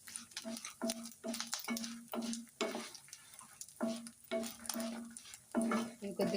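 Ingredients for a coconut spice powder dry-roast in a pan, with a spoon scraping and stirring in a quick, irregular rhythm over a soft, close sizzle.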